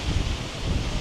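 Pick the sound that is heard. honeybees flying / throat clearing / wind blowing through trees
wind blowing through trees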